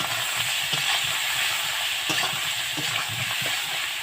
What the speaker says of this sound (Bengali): আদাটা একটু ভাজা ভাজা হয়ে যাবে